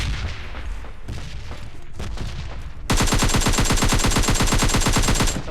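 Gunfire in PUBG Lite: scattered shots and rattling at first, then a loud, continuous rapid-fire burst of automatic weapon fire lasting several seconds.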